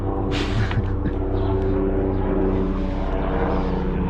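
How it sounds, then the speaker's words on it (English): A helicopter flies overhead during an outdoor bike cargo rack install, its steady rotor drone and engine hum filling the whole stretch at a constant, fairly loud level, with no talking over it. "It's a helicopter."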